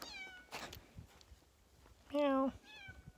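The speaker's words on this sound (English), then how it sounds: "Hey, kitty cat." A house cat meows outdoors in a garden on a warm day, one clear drawn-out meow near the end, with a voice speaking around it.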